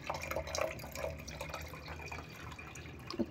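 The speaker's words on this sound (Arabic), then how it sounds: "مية عادية من الحنفية" Ordinary tap water running from a faucet into a container, a soft steady flow with light splashing and drips, close but fairly quiet, no talking.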